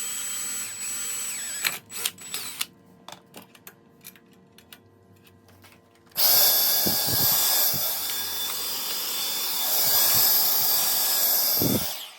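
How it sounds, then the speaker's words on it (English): A power drill bores a pilot hole in a Razor E200/E300 scooter's swing arm, with a few short clicks and taps first, then a loud, steady whine running for several seconds close by. "we'll flip it to the other side and we'll do the pilot hole on the other side as well"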